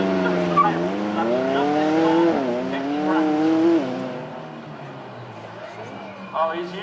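A supercar fitted with a £15,000 exhaust is driven hard on a track at the Beaulieu Supercar Weekend, its engine note climbing in pitch through two gears in a loud, sweeping run before fading, with a voice talking over it.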